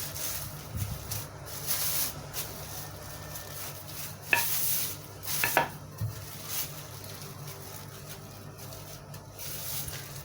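Pastry dough is being cut for a peach tart with pastry cream. Soft, quiet scraping and tapping runs through, with a couple of sharper clicks near the middle.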